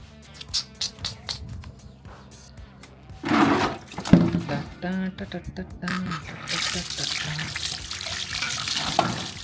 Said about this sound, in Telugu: 2 గ్లాసులు బియ్యం వేసుకుంటా. వేసిన తర్వాత దీన్ని శుభ్రంగా కడిగేసుకొని